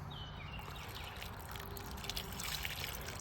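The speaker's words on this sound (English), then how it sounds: "Let's give it a little bit of water." Water poured onto a freshly buried garden plant, a steady soft trickle and splash into soil that grows slightly louder toward the end, with faint bird sounds in the background.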